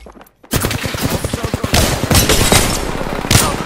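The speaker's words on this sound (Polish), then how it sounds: "Strzelają do mnie" Rapid gunfire from Apex Legends on PS4 rings out in loud, close bursts of automatic fire, followed by denser sustained shooting with sharp crack-like peaks throughout.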